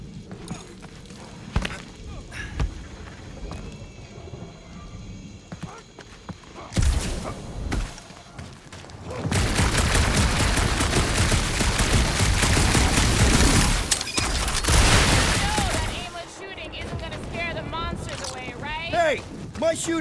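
Sustained gunfire from a Guardians of the Galaxy video game battle, a dense rattling burst that fills the middle stretch loudly, with sparser shots and character voices before and after.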